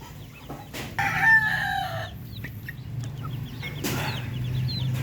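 Darag native chickens on a farm, with a rooster crowing loudly near the start and hens clucking continuously close by, a second brief crow later and steady low background noise.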